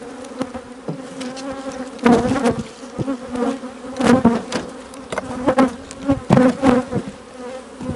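Honeybees buzz around a hive that has just been split into two, a close, dense drone that swells into repeated loud surges and eases between them.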